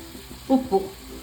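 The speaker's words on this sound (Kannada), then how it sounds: "ನಾವು ಹಾಕ್ಕೊಂಡಿದ್ದ ಮಸಾಲೆ ಎಲ್ಲ ಎಣ್ಣೆಯಲ್ಲಿ ಚೆನ್ನಾಗಿ ಫ್ರೈ ಆಗಬೇಕು" Brief sizzle of turmeric, garam masala and ground paste frying in hot oil for shavige bath, with two short louder bursts as the mix is stirred.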